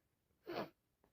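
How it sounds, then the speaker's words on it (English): One short, wet sneeze from a person with allergies and a cold, a quick burst in an otherwise quiet room, followed by a faint breath. "Sneezing and blowing and sneezing and blowing."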